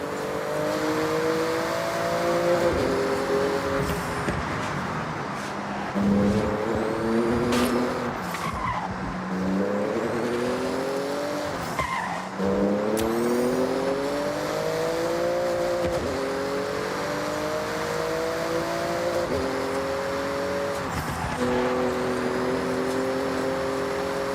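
A Porsche in Forza Horizon blasts through a speed zone, its engine note climbing in repeated revving sweeps through gear changes, with tire skids and squeals mixed in, loud and continuous throughout.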